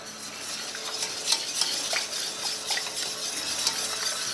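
Cornstarch slurry being stirred into gravy for poutine, a soft scraping and clinking of a utensil against the pot with a faint sizzle beneath, steady and close.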